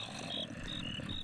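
Crickets chirp in Minecraft, a steady layer of high, repeating chirps over a constant ambient hum, continuous and moderately loud throughout with no voices.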